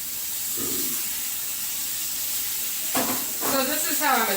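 A stir fry of sous vide–cooked meat sizzles and hisses steadily in a hot pan, with louder bursts of crackling frying as food is tossed near the end.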